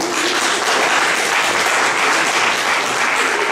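Audience applause at a Haitian quiz event in Paris, a steady, loud wash of many hands clapping together without a break.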